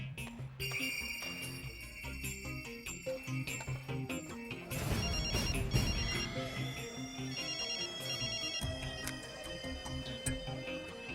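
A mobile phone rings with a bright, melodic electronic tune that repeats steadily and clearly, swelling into a louder, busier burst midway before the tune carries on.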